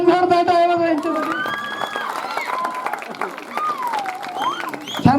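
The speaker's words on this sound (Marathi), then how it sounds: "छान जोरदार टाळ्या वाजवायच्यासाठी" An audience claps at a Navratri festival gathering held by a village festival mandal, the applause steady and close for about five seconds, with voices and a musical tone mixed over the clatter.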